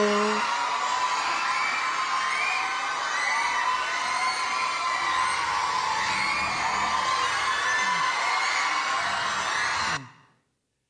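A large church congregation at a Sunday evening service cheers and shouts in a sustained roar for about ten seconds, then cuts off abruptly.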